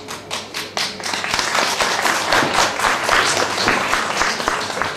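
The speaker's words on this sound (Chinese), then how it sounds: "值得我们在这里为他欢呼喝彩" An indoor audience at a Women's Day event bursts into sustained applause, dense and close, swelling after a few scattered opening claps.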